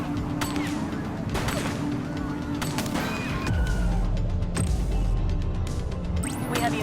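Gunfire in The Precinct, a police video game, with scattered shots and bursts over a dense, noisy street mix; it thins slightly midway and picks up again near the end.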